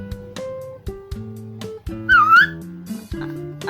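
A child imitates a sparrow's call with a short, bright whistled chirp that swoops and bends, loud and near, set among ordinary spoken voice.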